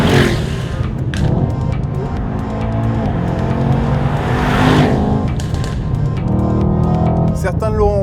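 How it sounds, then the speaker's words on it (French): 2017 Mercedes-AMG E63 S driven hard, its exhaust roaring loudly and steadily up close, with crackling pops bursting out near the end. "Ça pétarade partout dans les échappements."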